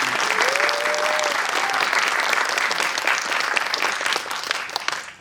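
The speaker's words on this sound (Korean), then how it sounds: "감독님 정말 고생 많이 하셨는데 박수 한번 주시겠습니다" Steady audience applause at a special screening event for a drama, honoring the director, with many hands clapping evenly throughout and a brief voice at the start, tapering off at the close.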